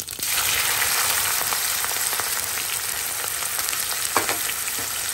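Chopped onions hiss loudly in smoking-hot oil with cumin seeds and asafoetida, a dense, steady sizzle close up with scattered crackles and a spoon tap, no talking.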